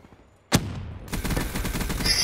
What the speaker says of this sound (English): I'm gonna go on and start shooting something.